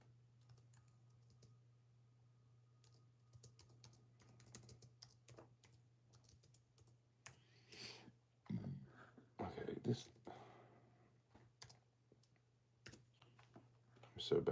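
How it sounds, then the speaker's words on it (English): Computer keyboard typing as bursts of light clicks between pauses, faint and close, with a low steady hum and a few louder knocks near the end; a voice speaks briefly. "Hold on, I need to type in here."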